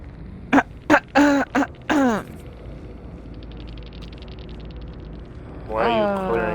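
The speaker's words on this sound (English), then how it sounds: "Why are you clearing your throat like I don't know you're here?" A person clears their throat several times in a row, short raspy vocal bursts close to the microphone, followed by quiet room noise and then a brief voiced sound at the end.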